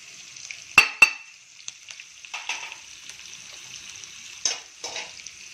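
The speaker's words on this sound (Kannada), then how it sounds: "ಇದು ಸ್ವಲ್ಪ ಫ್ರೈ ಆಗಲಿ." Soft hiss of green chilli and grated coconut frying in oil in a pan, with sharp spoon clinks and stirring scrapes at irregular moments, close and fairly quiet.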